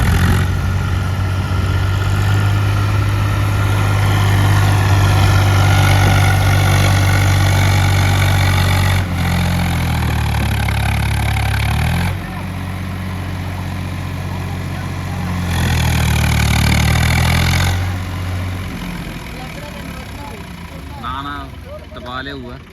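A tractor engine idles and rumbles steadily with a deep low drone, close by, while people talk over it.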